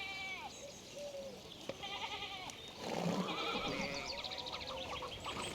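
Sheep bleat repeatedly in the video game Pentiment, several wavering calls overlapping one another against a fairly quiet rural background.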